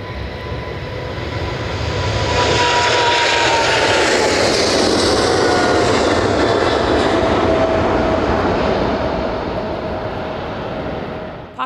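A jet airplane roars past nearby at Manchester Airport, its engine swelling to a loud, steady rumble and whine that holds for several seconds before slowly fading.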